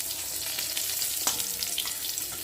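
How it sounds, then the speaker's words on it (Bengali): Eggplant slices frying in hot oil crackle and sizzle steadily up close, with a continuous bright spatter and small pops and no voices. "এখানে এখন বেগুন ভাজা হচ্ছে।"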